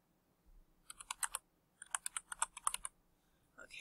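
Computer keyboard keys tapped in two quick bursts of typing while entering a password, crisp close clicks with brief pauses between runs and no talking.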